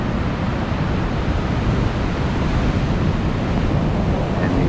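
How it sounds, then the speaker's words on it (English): Rough ocean surf pounds the Melbourne, Florida shore at sunrise, a continuous heavy roar of breaking waves mixed with wind rumble against the microphone, loud and unbroken. "the ocean is definitely still very angry"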